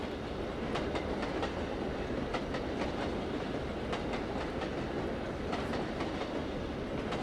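A Union Pacific freight stack train in Trainz Driver 2, a steady rolling rumble with rhythmic clickety-clack of wheels over rail joints, heard from the cab at moderate volume.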